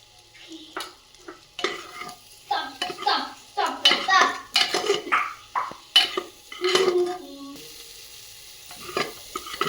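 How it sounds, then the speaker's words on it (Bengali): Ground spices frying with onion and garlic in a pan, a spatula stirring and scraping in repeated bursts over a soft sizzle, close and clear, with a voice faintly in the background. "ভাজা গুঁড়ো মশলাটা একটু দিয়ে দেবো কষাইতে, এই পেঁয়াজ রসুনের মধ্যে"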